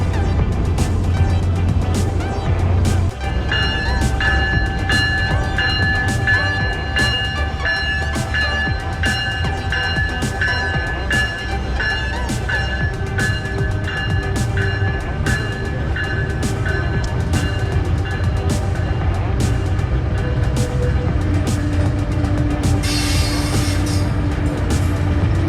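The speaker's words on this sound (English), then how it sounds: "this is the train." A train in West Palm Beach, Florida rumbles steadily past with a continuous low roar, periodic clacking of wheels over rail joints, and faint tonal squeals, loud and close throughout.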